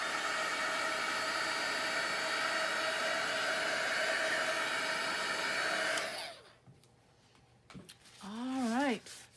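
A heat gun on a DIY paper craft project blows a steady, loud whoosh of hot air for about six seconds, then shuts off. A person starts speaking shortly afterward.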